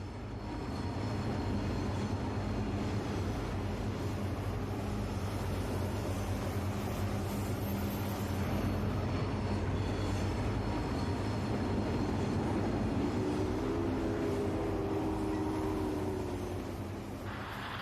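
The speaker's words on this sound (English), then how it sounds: "The mighty R2 heads a heavy freight train from Woodstock via Prestonville Yard onto Hamilton." A model R2 articulated locomotive hauls a heavy freight train along a layout, producing a steady, even rumble throughout with a faint rising whine toward the end.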